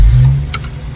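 A 1994 Jeep YJ with a stalling, no-start fault cranks and catches, its engine rumbling loud and close before settling to a steady run.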